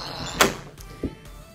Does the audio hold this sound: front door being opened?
yes